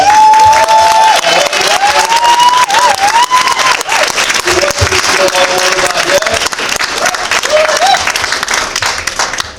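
A comic-con crowd at a cosplay championship applauds and cheers loudly for a cosplayer, with a dense, continuous roar that eases slightly toward the end, a whistle-like tone and voices over it.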